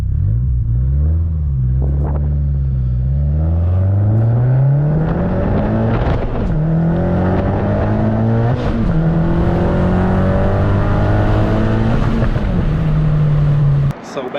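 A Mazda Speed 6 with all-wheel drive accelerating hard from inside the cabin, its engine droning loudly and climbing in pitch through several gear changes, each shift marked by a brief dip before the next rising pull.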